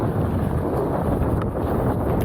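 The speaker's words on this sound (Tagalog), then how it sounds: "So napakalakas ng hangin dito sa Nueva Ecija" Strong wind buffeting a microphone on an open road in Nueva Ecija during a long bike ride, a steady loud broadband rush with no pauses throughout.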